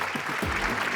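A studio audience on a Malayalam TV comedy show gives a brief burst of hand clapping, a quick dense patter lasting about a second, with a voice speaking over it.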